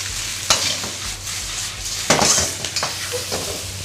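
Seafood and egg stir-fried in a pan, a continuous loud sizzle with scraping spatula strokes and metallic clanks against the pan at irregular intervals.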